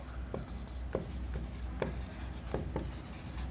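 Chalk or marker scratches on a classroom board in short strokes with sharp taps between them, close and clear over a faint steady hum, with no voice over it.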